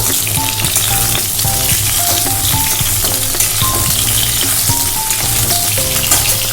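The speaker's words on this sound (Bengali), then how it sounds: "আগে পটলটা ভেজে নেবো ভেজে তুলে রাখবো লাল লাল করে ভেজে রাখবো" Pointed gourd (potol) pieces fry in hot oil with a steady, dense sizzle that stays loud and even throughout, with no talking.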